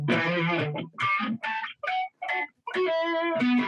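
An electric guitar plays pinch harmonics through heavy distortion, producing squealing, sustained high-pitched notes in short bursts with brief gaps, loud and close.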